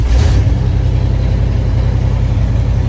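A 1978 Ford F150 pickup that has sat unused for a long time rumbles loudly right after starting, a close, deep, steady engine idle with a brief higher burst at the very start.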